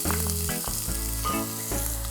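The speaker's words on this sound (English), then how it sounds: "Once it's hot, I'm gonna get the onions and carrots in there." Roughly chopped onion hits hot oil in a pot for spicy lentil soup, making a loud, steady sizzle that carries through the whole moment, with a layer of music running underneath.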